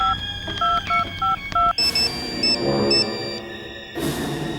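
Telephone dialing: a quick series of distinct keypad tones, then electronic beeps and a brief ringing pattern, close and clear with no talking.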